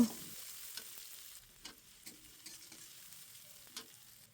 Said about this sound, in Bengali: এখন আমি একটু নেড়েচেড়ে পেঁয়াজটাকে ভেজে নেব